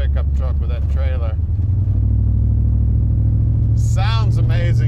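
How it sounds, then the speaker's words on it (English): A 1967 Chevrolet C-10 pickup with a big block engine drives along, its deep, steady rumble loud and close throughout, with a voice talking over it in the first second and again near the end. "That big block Chevy, just sounding awesome."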